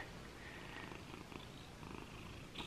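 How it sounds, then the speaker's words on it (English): A cat purrs softly and steadily up close, a faint continuous rumbling hum with gentle rhythmic pulses of breath. "Listen to her little purring ASMR."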